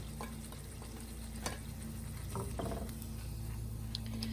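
Jamaican salt fish fritters fry in oil with a steady low sizzle and hum, broken by scattered faint clicks and small pops, with no one talking.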